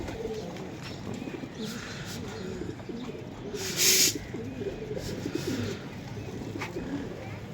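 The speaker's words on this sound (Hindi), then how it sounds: "कबूतर आ गए हैं दोस्त की तरफ से।" Low coos of racing pigeons murmur repeatedly amid a busy outdoor background, with a brief sharp hiss or flutter partway through.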